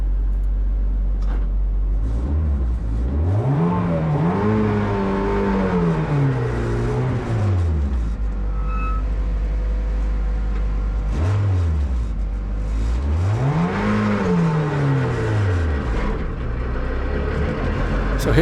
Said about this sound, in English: Today we're going to be driving the Alpine A110 Cup car on the Nogaro ring.